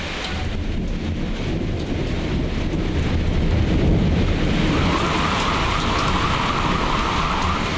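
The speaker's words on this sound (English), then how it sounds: "Thunder rattled windows and set off car alarms in central Auckland today." A thunderstorm over central Auckland brings steady heavy rain with a deep rolling rumble of thunder, and a sustained tone like a car alarm rises in the latter half; no one speaks.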